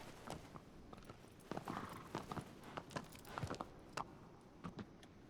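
Hooves of Agro, the horse in Shadow of the Colossus, clip-clop in a steady walking rhythm across the whole stretch, fairly close and moderately loud, with no talk over them.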